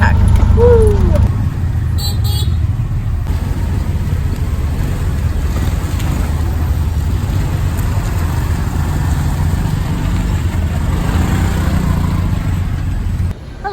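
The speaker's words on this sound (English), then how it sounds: "we're on our way back home in our tuk-tuk" Tuk-tuk engine running during a ride through Phnom Penh, Cambodia, a continuous low rumble and road noise with wind, steady throughout after a brief louder start.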